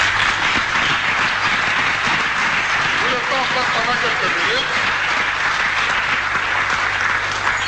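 A church congregation standing and applauding in praise, a continuous, loud wash of many hands clapping, with a voice speaking over it partway through.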